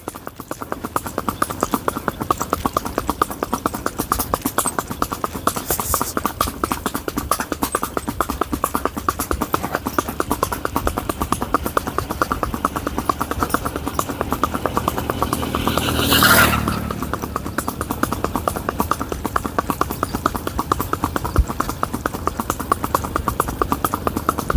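A Sindhi mare's hooves clip-clop in a steady walking rhythm throughout, close and fairly loud, with a brief louder scrape or whoosh passing midway.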